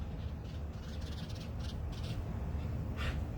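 Crows caw outdoors in faint, scattered calls that sound distant, with one louder caw standing out near the end over a low background rumble.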